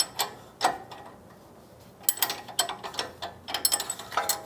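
Ratcheting clicks from a torque wrench tightening a stabilizer end link on a Toyota Tacoma, in two bursts of close, crisp mechanical ticks separated by a quieter pause, with no talking.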